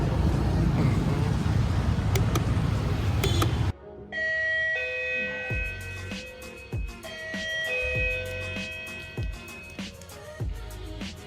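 A doorbell wired to an ESP8266 smart module chimes repeatedly during a home test, giving a series of clear ringing tones after an abrupt cut from a noisy background. The chimes sound close.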